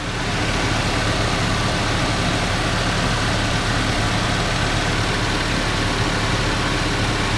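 A 2007 Ford Ranger engine idles steadily during a coolant flush, a continuous, even rumble that holds at constant loudness throughout with no revving and no voices.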